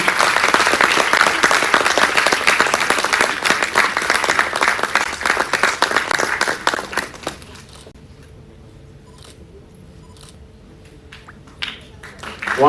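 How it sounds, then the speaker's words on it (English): Audience at a medical college event clapping and cheering loudly for about seven seconds before the applause dies away to quiet room noise, with a few scattered claps and a voice near the end. "The last applause for today."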